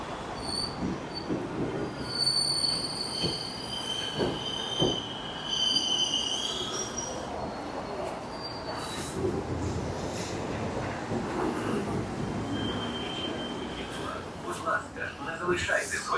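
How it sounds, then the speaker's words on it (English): Train wheels squeal loudly as a metro train pulls into a station in Ukraine, a steady grinding screech with high-pitched whines over continuous rumbling rail noise. "Oh, here's our train."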